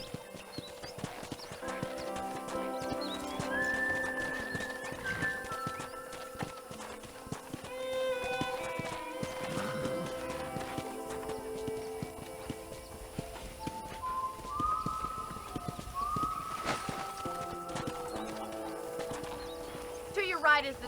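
Horse hooves clip-clop at a steady trot in the Western video game Red Dead Redemption, a continuous rhythmic patter running under a voice, with game music throughout.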